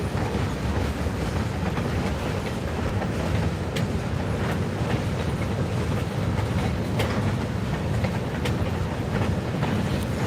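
A New York Central freight train with boxcars rolls past trackside at DeButt, a loud, steady rumble with faint clicks of wheels on rail joints running throughout, close by and without talk.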